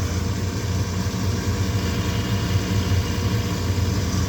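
A steady low hum and whir from a Carrier furnace inducer motor running during a tune-up, loud, even and continuous throughout with no talking.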